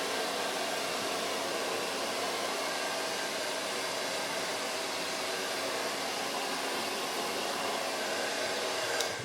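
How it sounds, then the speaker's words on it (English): A hair dryer on the cold setting blows a quick finishing dry over freshly sprayed hair after a barber line up, a steady, even whoosh running the whole time without a break. "quick blow dry"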